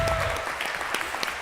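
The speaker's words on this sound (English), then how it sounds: "Can we just again give them a round of applause?" A short burst of steady audience applause closes an interactive dialogue on children's rights and climate justice, thanking the speakers, with faint voices mixed in.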